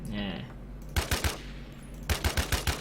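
A GX11 gun fires in rapid bursts: a quick volley of three sharp, loud shots, a short pause, then a longer run of about five shots, after a brief tonal blip at the start.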